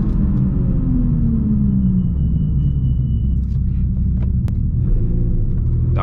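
A Mitsubishi Evo 8 braking hard on an empty neighborhood road to bed in new brake pads, heard as a steady loud low rumble of engine and tires that winds down through the stop.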